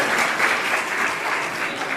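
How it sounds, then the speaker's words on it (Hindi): An audience at a Jain religious question-and-answer gathering breaks into loud, sustained applause, a continuous wash of many hands clapping with no speech over it. "आप लोगों की तालियों की प्रतिक्रिया बता दी कि मामला क्या है"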